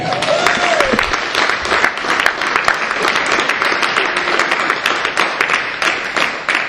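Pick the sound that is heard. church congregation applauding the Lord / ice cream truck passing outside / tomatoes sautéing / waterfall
church congregation applauding the Lord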